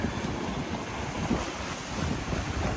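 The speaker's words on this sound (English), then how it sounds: "it just got a little windier. If I can't hear me with the wind" Strong wind roars steadily against the microphone while sailing, with the wash of water and waves underneath, loud and constant throughout.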